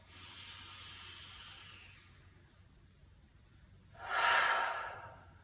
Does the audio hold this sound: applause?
no